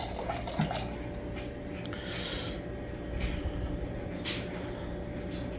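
Water drains from an Aquverse A2500-K hot/cold countertop water dispenser after a filter change: a steady trickle with scattered drips and splashes, close up and fairly quiet, with no talking.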